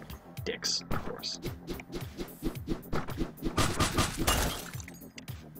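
Glass breaks with a sharp, brief crash in the video game Hotline Miami, heard over a pulsing, rhythmic game soundtrack while someone talks.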